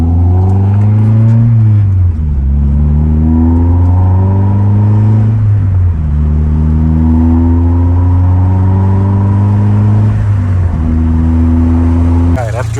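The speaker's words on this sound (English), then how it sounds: "I'm really excited to take this thing for a drive," A Nissan 240SX drives on the road, its engine rising and falling through several gear changes, loud and close from inside the car, with no talk.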